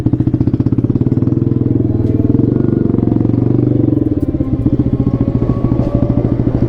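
A motorcycle engine drones steadily at close range throughout the ride under a hot sun, with a dense, rhythmic throb and slight rises in pitch. No one speaks.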